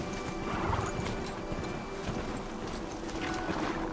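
Horse hooves clip-clopping in the video game Horizon Zero Dawn, a steady galloping patter over a dense game soundscape with a faint whinny and no talk.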